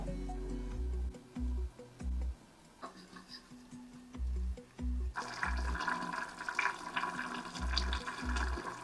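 Water poured into a pan of frying spices and potatoes for a catla fish curry, a gushing splash that swells into a bubbling hiss, after a stretch of intermittent low knocks and stirring.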